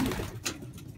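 A blue racing pigeon coos softly in a loft, a brief low murmur under steady background noise lasting about a second.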